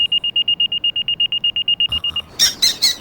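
An electronic alarm beeps in a fast, regular run of about twenty short high tones, then stops. Louder clattering sounds follow near the end.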